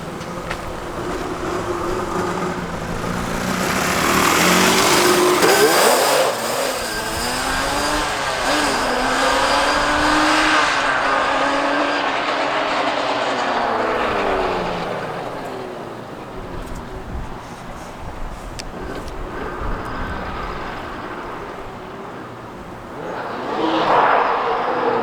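A car spinning donuts, its engine revving up and down in long sweeping swells with tire noise, sometimes loud and close, sometimes fading, recorded outdoors over about twenty-five seconds.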